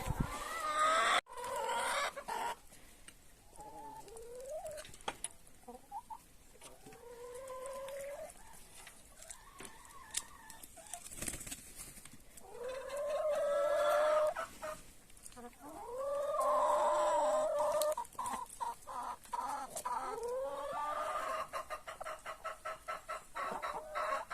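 Greez Sandri cross meat-and-egg hens and two roosters clucking and calling in a farmyard, repeated close cackles and squawks rising and falling over about twenty seconds.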